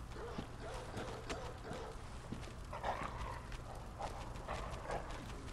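Dogs in the Forbidden Woods of the video game Bloodborne, barking and growling in scattered bursts over a steady low ambient drone, moderately near with no voices.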